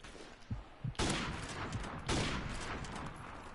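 Rapid bursts of gunfire in a modern military shooter video game, with sharp onsets at about one and two seconds that then sustain as dense, loud volleys, preceded by a few softer thumps.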